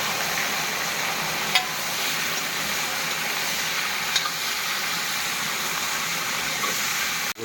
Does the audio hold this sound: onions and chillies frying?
yes